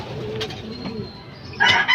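Soft low cooing from a racing pigeon, a few gentle murmured notes against faint outdoor background before rain, with a brief brighter chirp near the end.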